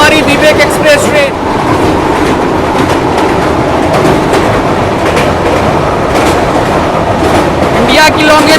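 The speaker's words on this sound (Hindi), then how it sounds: "Kanyakumari Vivek express train." The Kanyakumari Vivek Express rolls along the rails, very loud and close, with constant roaring rumble and rattling clickety-clack, and a voice faintly audible under the noise.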